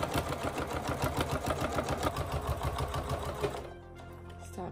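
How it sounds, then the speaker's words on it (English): A sewing machine runs a back and forth stitch, its rapid rhythmic needle chatter steady and close for several seconds before slowing to a stop. "So I start here, and then I do a back and forth stitch."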